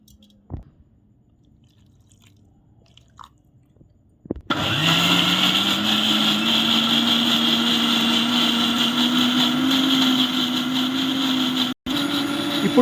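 A mixer grinder blends tomato masala paste with water and ginger-garlic paste. After a few seconds of near silence with faint clicks, the motor kicks in with a loud, steady whirring grind that runs without a break, cutting out briefly near the end.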